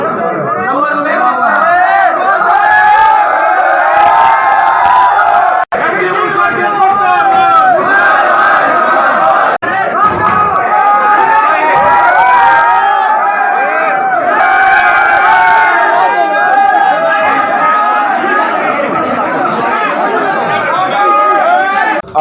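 Student protesters at Maharshi Dayanand University in Rohtak chanting slogans and shouting together, a loud continuous crowd roar of rhythmic calls and overlapping voices.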